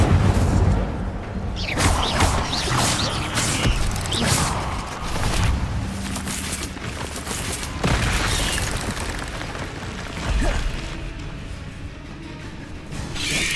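Incendio fire spell cast in Hogwarts Legacy, a string of whooshing bursts and booming pops with crackling mechanical clatter, loud and busy over several seconds.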